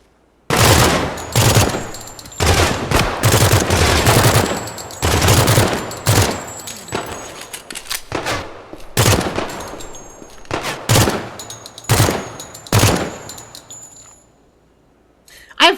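Bursts of new-weapon gunfire in the video game Project Silverfish, loud repeated volleys and rapid strings of shots across the whole stretch, with short pauses between bursts and clinking casings or impacts mixed in.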